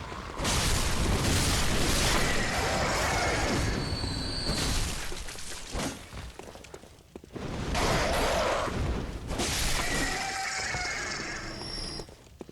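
Explosions from enemy fire in Bloodborne, long roaring blasts with crackling debris, loud and close, two main eruptions separated by a brief lull.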